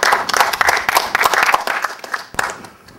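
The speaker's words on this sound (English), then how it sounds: "Let's give him a round of applause." Audience applause for a speaker after a lecture on the science of patient safety, dense, close clapping from a room of people that thins and fades toward the end.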